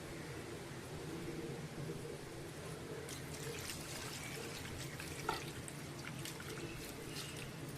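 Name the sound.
washing roasted goat head with water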